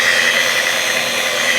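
A car polishing machine runs steadily at around 3,000 RPM, a continuous close whine with a broad hiss and no breaks across the short stretch.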